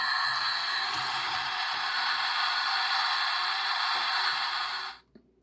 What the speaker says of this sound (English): if you plug the key into it, you'll get an interesting sound effect.